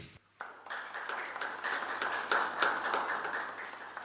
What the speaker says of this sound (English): give Nate a round of applause